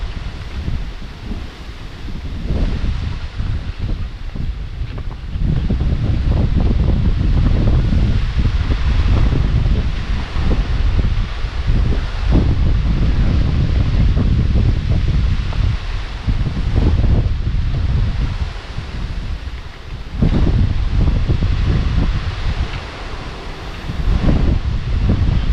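Strong wind gusts buffet the microphone at an outdoor cooking spot, a loud, continuous low roar with rustling that swells and dips over the whole stretch, with no talking.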